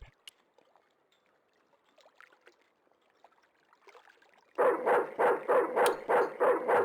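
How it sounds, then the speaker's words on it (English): A mean-looking guard dog in the game Broken Sword 2 barks loudly and steadily, a run of about seven close, evenly spaced barks that starts suddenly after a few seconds of quiet, faint background sound. "It was a mean-looking guard dog."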